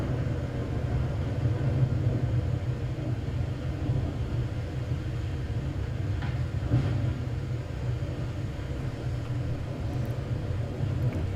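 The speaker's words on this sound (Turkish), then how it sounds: "İnanılmaz bir fırtına kopuyor" Storm in the island survival game Restore Your Island: a loud, continuous low rumble of wind and weather that roars steadily without a break.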